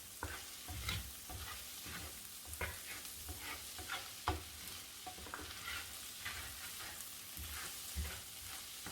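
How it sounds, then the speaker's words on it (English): Paprika is stirred into a frying pan for fried rice: quiet, steady sizzling broken by repeated scraping and tapping strokes of the utensil against the pan. "This is paprika. I'm going to be adding half tablespoon. I'm just going to give it a nice stir."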